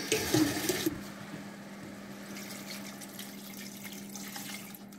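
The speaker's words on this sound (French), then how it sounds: "un peu de sel, on va commencer à rajouter l'eau" Water pours into a cooking pot of salted ingredients during outdoor hunter-gatherer style cooking. A louder splashing rush comes first, then it settles into a steady, softer flow with a low hum underneath.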